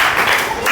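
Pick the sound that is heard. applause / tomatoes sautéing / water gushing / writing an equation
applause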